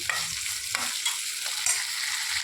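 Mustard seeds, curry leaves, cumin, big onion and tomato fry in a kadai. A steady close sizzle is broken by a few scraping stirs of a spatula.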